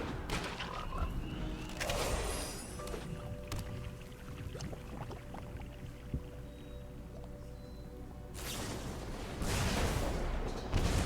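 A digital Poison Dart Frog card in a Magic: The Gathering Arena match lets out croaks and ribbits amid bursts of game sound effects, with louder splashy swells at the start and the end.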